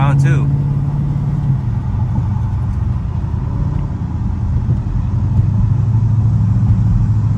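A 2020 Dodge Charger R/T with an 8-speed transmission gives a steady, loud low rumble throughout, with a brief higher engine tone at the start. Voices can be heard talking over the engine noise.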